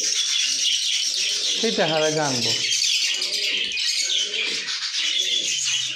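Pet lovebirds chirp and twitter steadily close by, with one brief rising call standing out, while a person talks over them.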